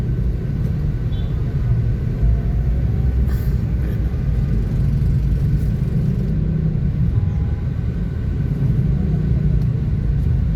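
Heavy road traffic on Taft Avenue in Manila by Luneta, a steady low rumble of engines and passing vehicles heard from the roadside without break.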